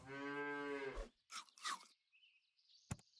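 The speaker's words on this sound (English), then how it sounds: "Buy the cow." A cow moos in the Super Auto Pets video game, one sustained low moo followed by a few short crunchy game effects and a bright chime, with no talking.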